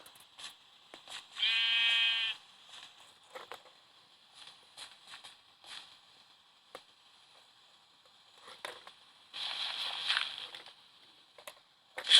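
A sheep in the Minecraft video game bleats twice, short and fairly clear, amid quiet clicks and scattered game noises on a wool farm.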